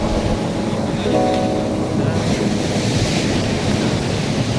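Strong wind buffets the microphone on the shore at Barangay Punta Cogon, Roxas City, Philippines, with surf rumbling underneath and a faint voice briefly audible.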